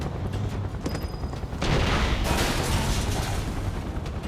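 Soldiers' gunfire in Final Fantasy VII, a steady crackling fusillade with low booms, growing denser and louder partway through and continuing without letup.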